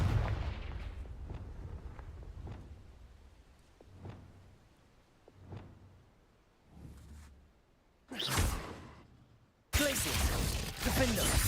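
Confringo spell explosions in a Harry Potter video game: a string of separate thudding blasts fading in and out, then a loud roaring burst and a dense noisy rush at the end.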